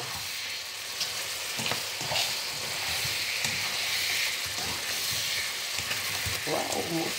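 Butter garlic shrimp frying in a pan, with a steady sizzle, a few sharp pops and stirring clatter throughout; a voice speaks briefly and faintly in the background.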